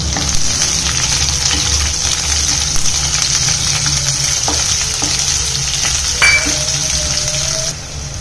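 A medium-sized onion sizzles loudly in hot oil with curry leaves in a pan for a Kerala-style dry fish curry, a continuous close frying hiss broken by a few scrapes and clinks of stirring.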